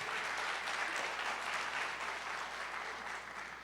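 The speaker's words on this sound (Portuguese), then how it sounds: "Pode aplaudir a Jesus." A church congregation applauding in worship, a steady, even wash of many hands clapping, heard at low level from a distance and easing slightly toward the end.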